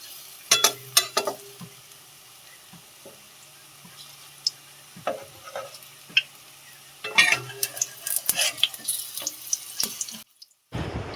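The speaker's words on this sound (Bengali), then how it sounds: "বড়াটা আমার লাল লাল করে ভাজা হয়ে গেছে" Potato fritters (aloo bora) coated in gram-flour batter frying in hot oil, with a steady sizzle, scattered clinks and scrapes of a utensil, and a louder burst of activity toward the end before a sudden cutoff.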